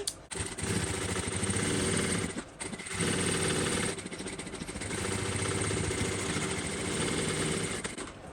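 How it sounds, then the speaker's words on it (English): Sewing machine running steadily while stitching a second row on a Bella Bucket Bag, a loud continuous mechanical whir with two brief pauses. "I will come back in and do a second row of stitching just beside the first one"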